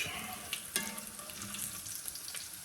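Fried bacon is lifted out of a pan of hot grease with a slotted spoon, with a quiet continuous sizzle, scattered light scrapes and a sharp metallic clink early on, heard close but fairly faint.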